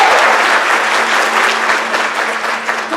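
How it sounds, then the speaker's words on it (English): Steady, dense audience applause at an award ceremony, filling the whole moment without a break, loud and close with no voices rising above it. "Give him a round of applause."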